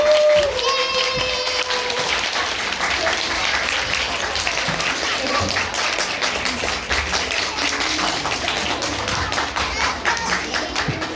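Parents clap through a busy stretch at a children's recital, with dense applause running under children's chatter and squeaks. A high whistle-like tone briefly rises early on.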